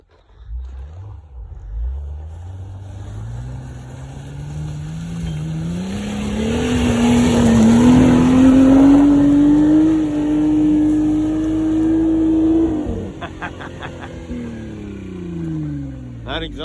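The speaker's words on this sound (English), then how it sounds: "That exhaust sounds pretty good." A Jeep Gladiator's exhaust roars as the engine revs and climbs steadily in pitch while straining up a snowy winter hill, loud and close, then drops off abruptly with a few clicks afterward.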